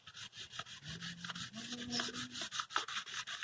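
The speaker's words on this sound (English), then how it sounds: "So let's start sanding." Rhythmic back-and-forth scratchy rubbing strokes, close and quiet, of an abrasive pad sanding metal in a steady repeating pattern.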